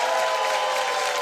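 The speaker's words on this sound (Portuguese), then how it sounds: "E vamos aplaudir nossa banda" An audience applauds a live band at a talk-show stage event, a steady, dense wash of clapping with no pauses.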